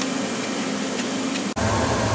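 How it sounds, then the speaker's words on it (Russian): A blue Torit dust collector vacuum runs in a CNC tool workshop, giving a steady loud broadband whoosh and hum that cuts out for an instant and then resumes. "включили наш пылесос. Вон он, синий. Это фирмы Torit"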